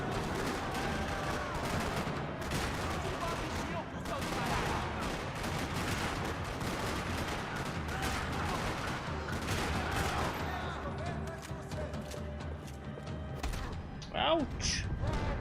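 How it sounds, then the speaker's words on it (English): Rapid bursts of gunfire in the video game Max Payne 3 rattle continuously in a parking lot, dense and loud, with scattered sharper shots and a brief whistling sound near the end. "Another parking lot rattling with gunfire."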